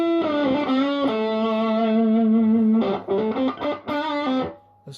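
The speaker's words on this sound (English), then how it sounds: "Let's just back off that distortion a bit, because I don't really want it to go into fuzz all of the time." Electric guitar run through a BOSS DS-1 distortion pedal, sustained distorted notes ringing loud for nearly three seconds, then a choppier run of shorter picked notes and chords before fading out.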